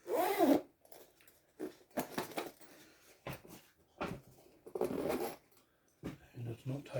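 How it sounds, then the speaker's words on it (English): A small carry bag for a K&F camera tripod head is zipped shut, several quick, close raspy zip pulls with short pauses between them, mixed with handling rustle and a voice talking. "zip it up"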